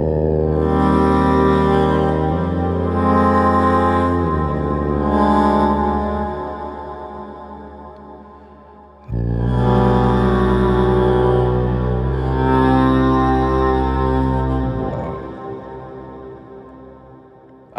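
A singing voice processed by the BLEASS Voices plugin and pitched all the way down becomes deep, buzzing harmonic drone tones, sustained in several long phrases that shift pitch, with a short silence midway.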